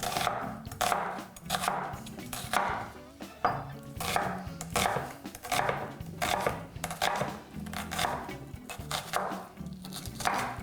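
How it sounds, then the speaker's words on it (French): A knife chops a medium onion for a taco-style shepherd's pie, rapid and steady blows on a cutting board repeating close and loud for about ten seconds, with no talking. "ça, c'était juste un oignon moyen, haché"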